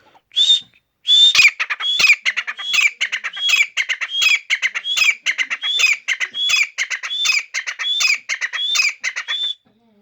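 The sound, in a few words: Sindhi pheasant (teetar) birds calling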